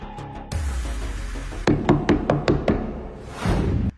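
A run of five sharp knocks on a door, evenly spaced and fairly loud, following a quieter stretch of background sound.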